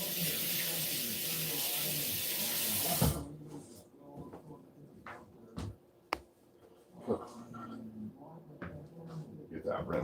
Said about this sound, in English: Move that, and I'll rinse the cutting board off.